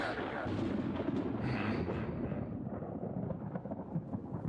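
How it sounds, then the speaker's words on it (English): Rumbling thunder from a storm in the video game Persona 5 Royal rolls on as a loud, continuous low roar with crackling bursts, filling the whole stretch with no voices over it. "Got a storm above you."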